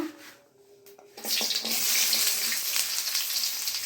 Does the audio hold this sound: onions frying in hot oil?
yes